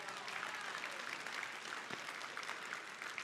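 Steady applause from a conference audience at a general session, a dense even wash of clapping that holds at a moderate, slightly distant level throughout.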